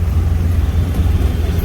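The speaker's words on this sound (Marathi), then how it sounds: "काय ग ट्रॅफिक आहे थोडीशी" Steady road traffic drones loud and close from inside a vehicle on a highway toward a toll plaza, a dense low rumble without a break.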